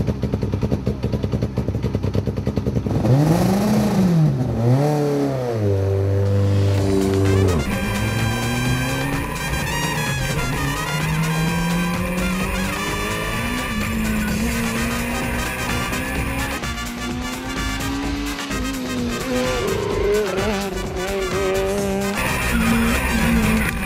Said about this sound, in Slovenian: Atmosferski dvolitrski motor nudi neposreden stik z mehansko tehniko